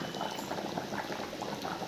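Coconut milk fish curry bubbling steadily in a pot, a continuous close simmering boil with soft popping bursts and no talk.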